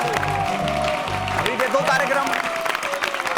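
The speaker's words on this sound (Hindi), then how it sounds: "तालियां बजाओ" An audience at a comedy stage show claps on request, a short burst of crowd applause heard under a loud announcer's voice and music.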